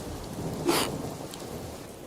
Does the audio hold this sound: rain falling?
yes